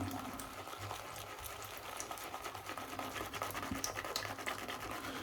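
A shaving brush scrubbing soap lather in a bowl, the Gentleman's Nod Calabria soap, gives a soft, continuous wet swishing and crackling of foam, quiet and close, with steady rhythmic strokes throughout.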